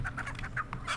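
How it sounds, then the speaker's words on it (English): A chicken clucks in the Texas Chain Saw Massacre video game, a quick run of short, nasal clucks in a brief burst, fairly close and clear. "I hear a chicken."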